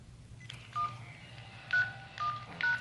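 A telephone keypad is dialed, a few separate DTMF tones sounding quietly in a courtroom setting over a low background hum, with no talking over them.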